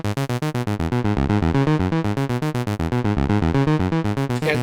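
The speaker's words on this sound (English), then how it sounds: "If I want to add distortion." Sequential Pro 3 synthesizer with distortion added, playing a fast repeating sequence of gritty, buzzy notes in an even pulsing rhythm, loud and alone throughout.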